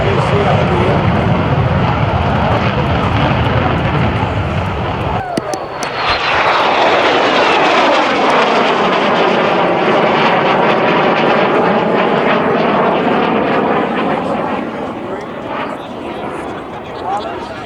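A jet fighter with afterburner at the 2023 Dayton Air Show, a loud broadband roar that sweeps in with a sudden onset, rising and falling in pitch as it passes by, then fading slightly toward the end.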